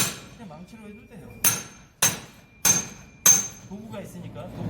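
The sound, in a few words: hammer breaking a concrete block on construction site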